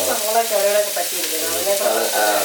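Sliced onions frying in a pan on medium heat for a Kerala pomegranate thoran, a steady close sizzle with soft crackle running the whole time, no talking.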